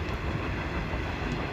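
An empty coal train rolls along a railroad track near Kayenta on the Navajo Trail, a dense, steady rumble of wagons and wheels up close, with no voices.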